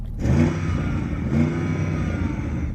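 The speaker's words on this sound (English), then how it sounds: "RSQ8, rev up your engine." An Audi RSQ8 engine revs twice in short bursts, heard from inside the cabin. The note is moderate and fairly muffled, with a steady engine hum between the revs.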